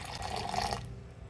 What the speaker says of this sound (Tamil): இப்போ மறுபடியும் இன்னொரு கப் தண்ணி சேர்த்து அரைச்சிக்கலாங்க